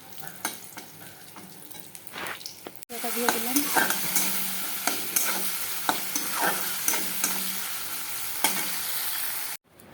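Eggplant with a little yogurt fries in a pan in a home kitchen, a steady close sizzle broken by repeated scraping stirs, with one brief spoken remark at the start and a sudden cut near the end.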